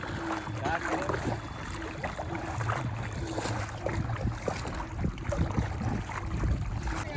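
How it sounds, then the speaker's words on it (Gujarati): A homemade country raft boat moves steadily across water, with continuous splashing and churning, some wind, and people talking now and then over the sound. "આપણી હોડી હાલે છે"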